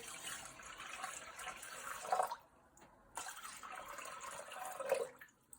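Water pours steadily into a Thermomix TM6 bowl for 750 grams, a soft, close splashing stream that pauses briefly midway and then resumes before tapering off.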